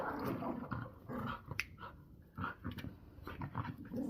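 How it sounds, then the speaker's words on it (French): A pit bull dog growls low and whimpers in a home setting, in close, uneven bursts of rumbling and whining with brief pauses in between. "C'est un pitbull, moi. Il a la rage le bordel."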